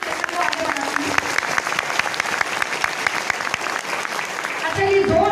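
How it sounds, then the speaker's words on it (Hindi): A crowd in a marriage hall in Abunagar, Fatehpur, breaks into loud, sustained applause, dense clapping with a few sharp peaks that swells toward the end. "तो एक जोरदार तालियों के साथ में सेशन को आगे बढ़ाते हैं"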